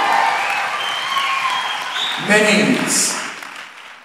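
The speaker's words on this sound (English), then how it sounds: "Give them another round of applause, please," An audience at a dance competition's national finals applauds the mini outstanding dancers, a dense wash of clapping that goes on while an announcer speaks over it through a microphone.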